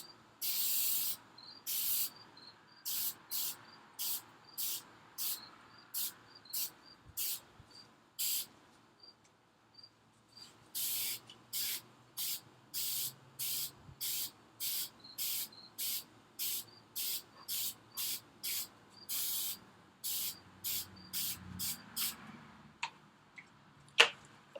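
Spray paint is sprayed onto car taillights in many short, evenly spaced hissing bursts, close and fairly quiet, with brief pauses between runs.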